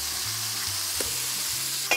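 Food sizzles in a frying pan with a pinch of sugar for a light caramel note, a steady hissing fry broken by soft scraping stirs and a small clack at the end, with no one speaking.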